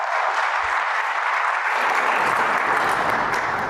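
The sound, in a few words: congregation applauding volunteers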